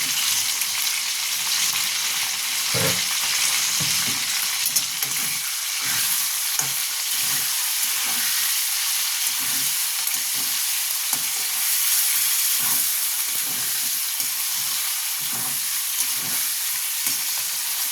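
Ginger paste frying and being stirred into chicken stew in a pan, a steady close hiss of sizzling oil with recurring scrapes and knocks of the spoon, no talk.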